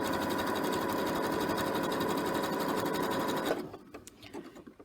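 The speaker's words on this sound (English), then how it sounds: "And then I continue sewing." A sewing machine stitches fabric for an applique sample, its fast steady rattling run lasting several seconds before stopping, followed by small handling clicks, close and alone.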